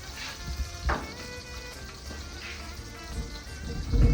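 Browned meat sizzles in olive oil in a wood-fired oven during stifado cooking, a steady crackling hiss with a few louder pops and spits throughout, no talking.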